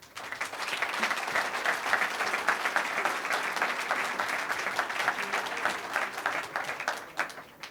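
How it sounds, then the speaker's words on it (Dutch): Audience applause at an award ceremony for a businessman-of-the-year prize, with dense, steady clapping from a crowd that holds for several seconds before tapering off. "graag een groot applaus voor de uitreiker van de Hellema Notaris Ondernemer van het jaar"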